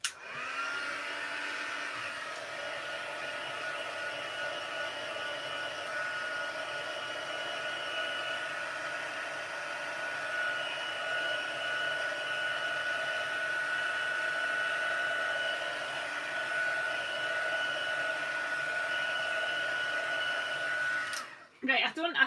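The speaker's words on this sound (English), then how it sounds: "I'm going to take my heat gun for a minute and just make sure this is dried off" A heat gun blows steadily to dry craft paper before embossing, a continuous whooshing hiss holding evenly for around twenty seconds and then cutting off with a click.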